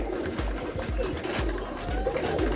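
Birmingham roller pigeons cooing close by in a loft, a steady run of soft, low repeated coos overlapping with one another.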